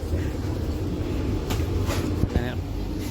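A steady low rumble fills the inside of a moving, clean passenger train, with a continuous carriage drone and a brief voice heard near the end.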